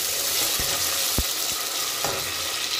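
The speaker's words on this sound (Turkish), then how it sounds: "Evet, şimdi sucuklar kavruldu. Üzerine bir kaşık domates" Sucuk with a spoonful of tomato paste fries in a pan with a bright, steady sizzle close by, punctuated by a few sharp taps and clicks of a utensil, and no talking.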